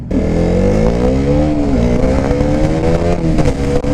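A motorcycle, either a KTM Duke 200 or a Kawasaki KSR110, accelerates hard from a standstill on a speedway, its loud, close engine note climbing steadily through the revs with no talk over it.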